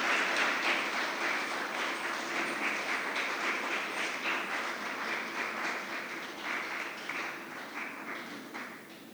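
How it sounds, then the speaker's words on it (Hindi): Sustained audience applause welcoming the chief guest at an Independence Day celebration at Nav Sadhana Kala Kendra in Varanasi, a dense, even wash of many hands clapping that swells slightly in waves and slowly tapers off. "तालियों के साथ उनका स्वागत करें।"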